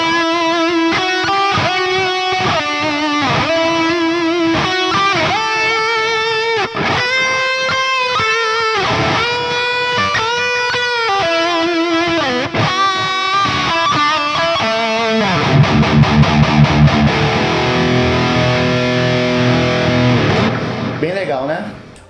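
An electric guitar plays a sustained lead through an amp with a little boosted midrange, delay and a Tube Screamer overdrive, loud and continuous. It ends in a held, ringing note that fades out.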